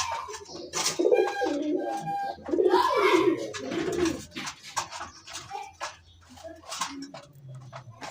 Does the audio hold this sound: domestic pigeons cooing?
yes